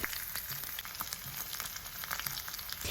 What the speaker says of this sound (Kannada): ಒಂದು ಸೈಡ್ ಚೆನ್ನಾಗಿ ಫ್ರೈ ಆದಮೇಲೆ ತಿರುಗಿಸಿ ಇನ್ನೊಂದು ಸೈಡು ಫ್ರೈ ಮಾಡಿ, ಮೀಡಿಯಂ ಫ್ಲೇಮ್ನಲ್ಲೇ ಇಟ್ಟು ಫ್ರೈ ಮಾಡಿ